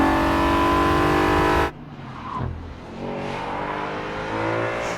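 A 2013 Audi RS5 Cabriolet engine revs hard and loud up close, then cuts off suddenly into a lower, quieter idling rumble with small blips.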